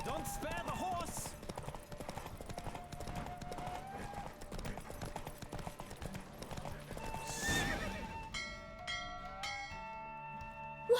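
Racehorse galloping in The Witcher 3 video game, a continuous rapid clip-clop of hooves with whinnies, mixed with game sounds and light chimes, and a voice speaking over it.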